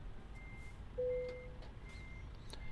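A reversing alarm beeps in a steady, faint rhythm as a truck backs up at night in Spain in Euro Truck Simulator 2, over low engine rumble, with one brief louder tone midway.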